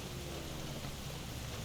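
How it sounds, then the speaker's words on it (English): Rain in the racing video game Forza Horizon 5, a dense, constant hiss of falling water filling the short stretch at steady volume without any talking. "And of course it's raining, so why not?"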